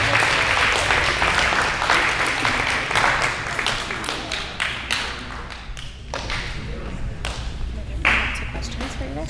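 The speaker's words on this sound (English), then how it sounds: "please do give yourselves a round of applause" Youth audience applause at a drug-free youth presentation, clapping that starts dense and thins into scattered individual claps toward the end, close by, with some voices in the crowd.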